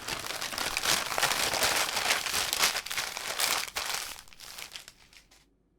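Gift wrapping paper crinkles and tears loudly up close in dense, continuous rustling bursts before fading to near silence at the end.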